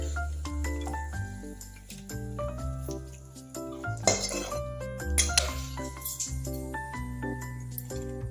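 A cooked dish in a pot is lifted off the stove in a Bengali home kitchen, giving a couple of sharp dish clinks over steady background music.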